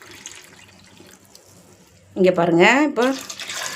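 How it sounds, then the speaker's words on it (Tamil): Water poured from a small vessel into a cooking pot of tamarind water in a home kitchen, a short rushing pour with rising gurgle lasting over a second, loud and close, after someone speaks. "2 சொம்பு தண்ணி ஊற்றிருக்கேன்."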